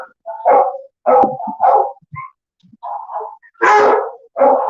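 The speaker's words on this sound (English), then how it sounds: "So a lot of barking going on, that's for sure." Several dogs bark at an animal shelter in Honolulu, loud, close woofs and yips in irregular bursts with a few brief pauses, one bark rising higher and harsher than the rest.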